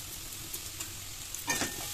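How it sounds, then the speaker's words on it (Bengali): Grated cauliflower, grated carrot, peas and onion frying together in hot oil, a faint steady sizzle with a few soft stirring scrapes, the loudest around the middle of the stretch. "দিয়ে এটাকে একই সাথে ওই তেলের মধ্যে ফ্রাই করবো"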